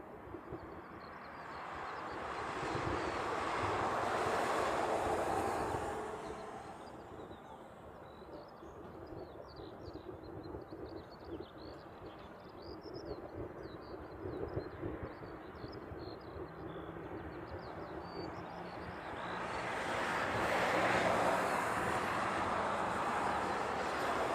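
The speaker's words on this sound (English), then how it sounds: "We have a Coletta Air 747 that's taxiing out right now." A Boeing 747 taxis out at Honolulu airport, a steady broad jet roar that swells loud at the start and again near the end, with a quieter rumbling stretch between.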